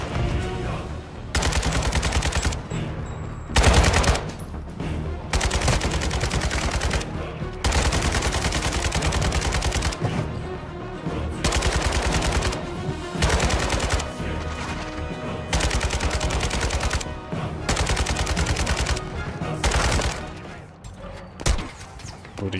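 Sustained bursts of automatic gunfire from players in the video game Call of Duty DMZ, loud and close, firing in long volleys separated by short pauses throughout.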